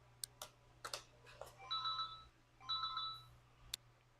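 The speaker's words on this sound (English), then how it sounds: "That's my phone." A mobile phone rings quietly in a room, two short bursts of electronic ringtone separated by a pause, with scattered clicks and taps around them.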